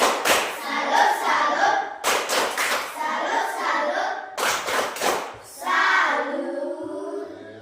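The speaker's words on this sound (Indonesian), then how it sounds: "Tepuk salut untuk kelompok 2." Primary schoolchildren in a classroom perform the 'tepuk salut' patterned clapping, three close, loud bursts of rhythmic group claps separated by short pauses, with young voices chanting along.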